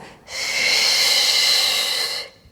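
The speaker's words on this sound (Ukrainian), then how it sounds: "Протяжний видих." A long, steady breathing exhale during a morning exercise routine, close and alone, rising quickly and holding an even hissing breath for about two seconds before fading.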